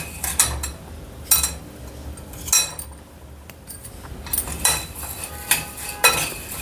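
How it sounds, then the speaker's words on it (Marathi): Four tablespoons of coriander seeds for homemade sambar masala dry-roasting until crisp in a pan, with a spatula scraping and tossing them in repeated short, close bursts over a steady low background. "हे पण चार टेबलस्पून आहे चांगलं क्रिस्पी भाजून घेऊया"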